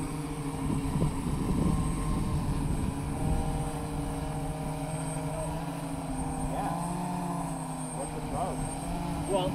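A fixed-wing RC drone takes off and flies in loiter mode, giving a steady propeller drone that holds at a fairly even level while people talk nearby.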